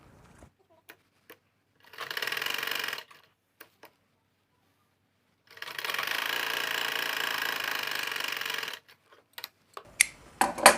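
A sewing machine stitches cloth for a bra in two bursts of steady, rapid mechanical whirring, one short and one longer, separated by quiet gaps with scattered clicks and handling knocks.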